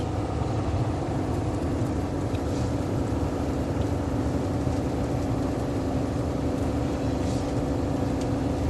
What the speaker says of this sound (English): I'm going to a little brake right here, and then let off, and we just coast.